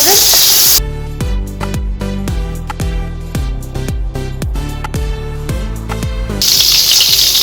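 Potatoes frying in oil in a pan over a medium gas flame, a loud, steady hiss and sizzle heard briefly at the start and again at the end, with tuneful plucked music in between.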